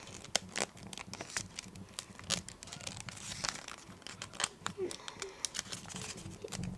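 Sheets of paper crinkle and crease while being folded into an origami jet, a run of close, crisp rustles and sharp creasing snaps with no talking.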